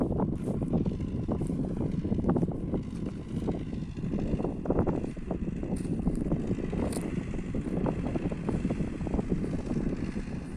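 A low YuMZ tractor engine rumbles steadily throughout with uneven chugging pulses and some wind noise while sowing sunflowers, no talking.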